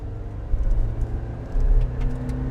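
2024 Suzuki Jimny 5-door with a 1.5 litre engine and 4-speed automatic accelerating on road, a loud steady engine drone heard from inside the cabin that surges as it revs up.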